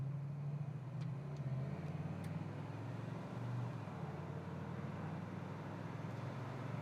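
A 1968 Chevrolet El Camino SS driving through its gears gives a faint, steady low engine drone with mild swells in pitch, distant and without talk.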